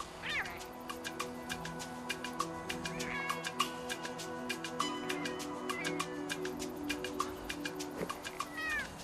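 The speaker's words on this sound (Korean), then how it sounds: "마지막으로 고양이 소리를 들려줘 봤다" Recorded cat meows played back outdoors in an urban park along Seoul's Yangjae stream: a rapid series of loud, close meows and short yowls over a steady droning hum.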